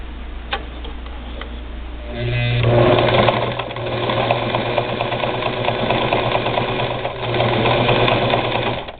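A Singer Model 237 electric sewing machine runs a zigzag stitch through layers of denim, starting up and whirring with a rapid rhythmic ticking at close range, easing briefly before speeding up again.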